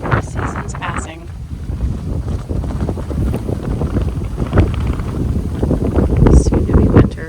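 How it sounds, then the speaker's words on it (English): Wind buffets the microphone on the Skyline Trail in Cape Breton Highlands National Park, a loud rumbling gusty roar throughout, with a person talking over it. "I know it's windy"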